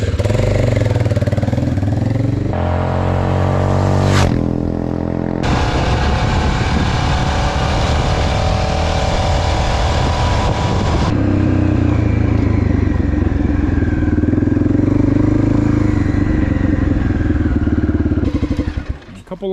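Honda XL600R dual sport motorcycle engine running after being started from cold, a loud close single-cylinder idle with blips of throttle and some clatter, continuing steadily throughout.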